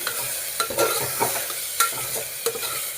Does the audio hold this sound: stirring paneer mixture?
yes